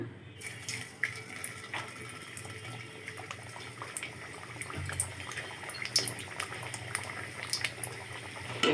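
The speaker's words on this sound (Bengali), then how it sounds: "এখন দিয়ে দিব এক এক করে মোগলাই পরোটাগুলি দিয়ে ভেজে নিব" Stuffed mughlai parathas fry in hot oil in a wok, giving a soft, continuous bubbling and hissing. The sound stays fairly quiet and even, with faint clinks and murmurs in the background.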